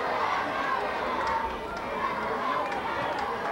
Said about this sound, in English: A small but very vocal Costa Rican cheering section going wild down there.